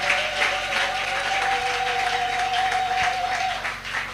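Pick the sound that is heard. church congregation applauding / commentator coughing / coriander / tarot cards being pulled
church congregation applauding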